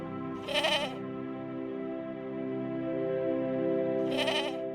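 Sheep on the steep, treeless grassy slopes of the Faroe Islands bleat twice, one clear call near the start and another near the end, over a steady low hum of background noise.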